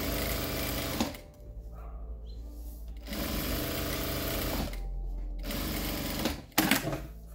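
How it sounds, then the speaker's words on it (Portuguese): Sewing machine running a securing stitch, loud close bursts of rapid mechanical whirring in three runs separated by short pauses, ending with a few clunks. "Costura de segurança."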